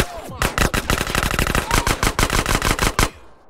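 Rapid automatic gunfire in GTA San Andreas, a dense run of loud sharp shots fired in quick succession for about three seconds before cutting off.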